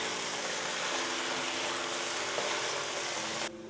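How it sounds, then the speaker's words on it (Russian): Meat and onions fry together in a pan, giving a steady, close, broadband sizzle that runs evenly throughout with no talking. "Обжариваем мясо с луком, пока лук не станет золотистым."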